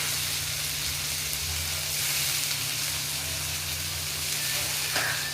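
A spoonful of washed urad dal sizzling in hot oil in a pan while making upma, a steady close frying hiss with soft crackles and a low background hum.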